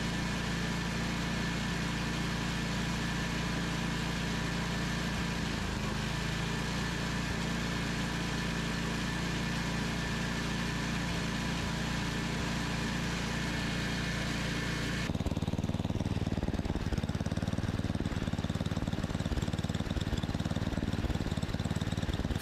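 A 10 horsepower snowblower engine runs close and loud with a steady idle chug, then its pitch and roughness shift abruptly partway through as the throttle and idle adjustment change, with no talking.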